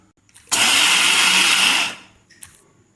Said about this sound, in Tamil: வறுத்துட்டு இதை அப்படியே மிக்சியில் பவுடர் பண்ணிக்கோங்க